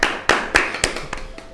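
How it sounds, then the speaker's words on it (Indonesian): Several separate hand claps in a podcast studio, sharp broadband bursts spaced unevenly over a second and a half, close and moderately loud, with no talk over them. "Woi, tepuk tangan dong."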